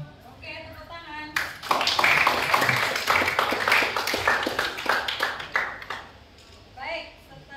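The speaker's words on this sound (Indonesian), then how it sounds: "Oke, tepuk tangan." A classroom full of people claps for several seconds, a burst of applause that swells and then fades into scattered claps, with voices before and after.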